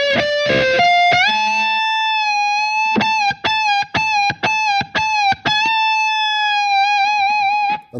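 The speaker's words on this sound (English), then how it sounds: "when you bent up two whole tones, you're then re-picking and letting the bend down" Electric guitar plays a lick from a solo, with a sustained note bent up two whole tones and then re-picked several times in a rhythmic pattern as the bend is released. The tone is loud and clear, with no talking.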